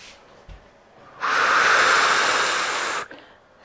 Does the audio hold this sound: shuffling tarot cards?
no